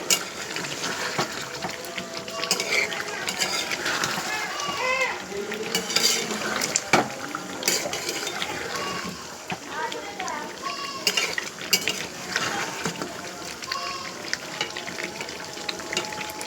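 Village-style beef biryani with potatoes is stirred and sautéed in a pot, with a spoon scraping and clinking against the metal over a soft sizzle, close and continuous.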